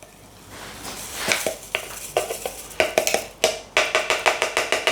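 Dry ingredient sprinkled over the top of mead being made in a pot: a series of light, crisp pattering taps that quicken into a rapid rhythmic run, close and fairly quiet, with no talk.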